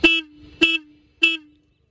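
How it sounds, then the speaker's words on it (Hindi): Stock horn on a Royal Enfield Hunter 350 motorcycle sounds three short, close honks at an even pace, each a bright buzzy tone with a lingering low drone between the blasts. "ये हॉर्न अब बज भी रहा है"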